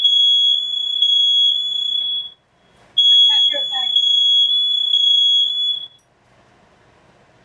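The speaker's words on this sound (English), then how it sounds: "the roosters heard the fire alarm" A loud, piercing smoke alarm tone sounds continuously during cooking, cuts out briefly, then resumes for a few seconds before stopping; a person speaks over it.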